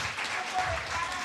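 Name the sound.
applause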